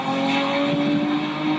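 Drag car on street tires launching with no traction, a loud, sustained engine roar mixed with tire squeal from wheelspin, steady and near throughout the short burst.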